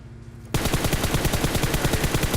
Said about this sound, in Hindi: लेकिन मैं गाड़ी पे गोली चलाता हूँ और बंदा ढिल जाता है